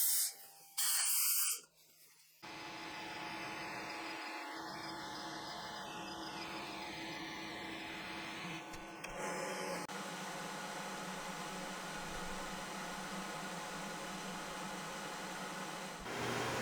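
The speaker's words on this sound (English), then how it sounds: "Now a quick dust off with the air compressor to remove any of the fine surface dust that may be left over" An air compressor blows fine dust off a brick-pattern wooden cutting board. A couple of short, loud air bursts give way to a long, steady close hiss.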